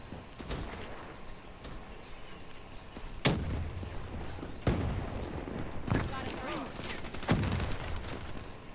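Automatic LMG/SMG fire in Call of Duty Black Ops III multiplayer sounds as sharp bursts and single shots spaced a second or two apart, fairly faint under game noise, with a voice speaking briefly.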